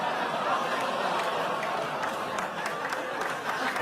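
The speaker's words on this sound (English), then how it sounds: "Some applause." Studio audience applause on a late-night comedy news desk, a steady dense wash of clapping with some chuckles and chatter mixed in, fairly loud and continuous throughout.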